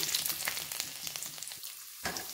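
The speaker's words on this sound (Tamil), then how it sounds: "உளுத்தம் பருப்பு நல்லா சிவக்க ஆரம்பிச்சிருச்சு இப்போ நம்ம வெள்ளைப்பூண்டையும் இஞ்சியும் அதில் சேர்த்துக்குவோம்" Garlic and ginger sizzle in hot oil with browning urad dal for a Chettinad beetroot chutney, a steady crackling hiss with a few stirring scrapes and a brief quieter gap before the frying swells again.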